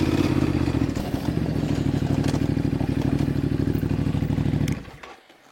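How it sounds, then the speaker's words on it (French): Motorcycle climbing a steep, stony uphill track with low grip and small rocky steps, its engine chugging loudly up close with clattering over stones, then cutting out abruptly near the end. "je vais faire première, deuxième tout de suite et tu vas voir que la moto elle va être ultra efficace"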